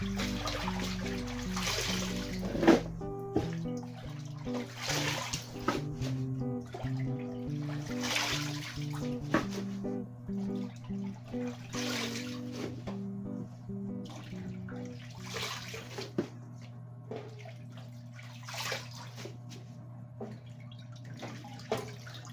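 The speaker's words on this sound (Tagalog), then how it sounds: "So, hinahugasan ko muna guys. Lilipat ko sa may palanggana." Talbos leaves being washed by hand in a basin of water, with continuous sloshing, trickling and dribbling and occasional splashes, close by, under a steady background music bed.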